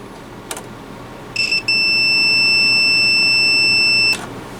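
Multimeter in continuity mode beeping across a shorted capacitor in a home-built curve tracer under repair: a brief click and stutter, then one loud, steady high-pitched tone held for about two and a half seconds before cutting off.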